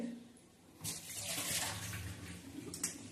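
Water splashes and gushes as it is poured out from soaking eggplant, starting suddenly and continuing steadily for a couple of seconds, fairly quiet and close.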